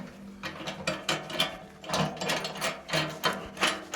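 Ratchet wrench snugging a bolt during farm equipment repair on a ranch, a quick rhythmic series of clicking ratchet strokes up close, with bursts pausing and resuming throughout, no talking.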